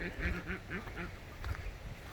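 Ducks at their hutch quack in the evening as they head to bed, a rapid series of about six repeated nasal quacks followed by scattered quieter calls, close and moderately loud with no talk.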